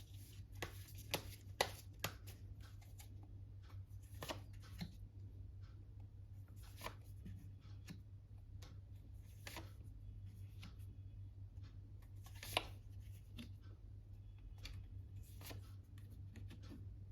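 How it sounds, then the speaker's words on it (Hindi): Faint, soft riffling and tapping of a deck of playing cards being shuffled by hand, intermittent flicks and light knocks over a steady low hum, with no talking. "जब तक मैं शफल कर रही हूँ"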